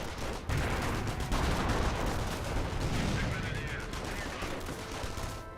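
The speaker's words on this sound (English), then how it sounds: "Grenade there onto the airborne squad." Grenade blast amid a Company of Heroes battle: a sharp burst near the start gives way to dense, rumbling gunfire and explosions that roll on loudly throughout, with faint voices underneath.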